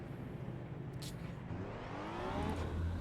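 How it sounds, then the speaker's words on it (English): Steady engine drone of racing cars in the video game Assetto Corsa EVO, rising slightly as one revs up, with no one talking over it. "I like how the cars sound in this game."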